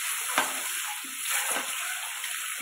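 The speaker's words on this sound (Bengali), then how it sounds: "ডিমটা ভাজা হচ্ছে" An egg fries in a pan with a soft, steady sizzle and occasional louder crackles, fairly quiet and unbroken by speech.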